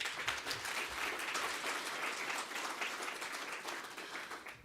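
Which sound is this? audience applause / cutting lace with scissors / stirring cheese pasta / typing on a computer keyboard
audience applause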